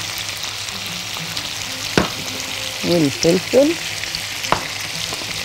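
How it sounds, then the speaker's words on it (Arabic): Potatoes and vegetables frying in a pan are stirred, a steady sizzle running throughout with a few sharp scrapes and clatters of the utensil, while someone speaks briefly over it. "وهنقلب كله مع بعض"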